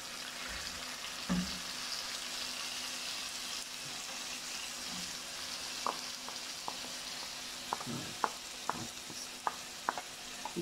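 Chicken browning with garlic in a hot pan gives a steady, close sizzle, broken by a series of sharp metallic clinks from a spoon stirring against the pan, more frequent toward the end.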